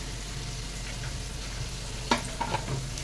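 Rohu fish mash with salt and turmeric stirred in a pan, a steady low sizzle from the frying mixture with a sharper burst of scraping and clatter near the end, close and fairly quiet.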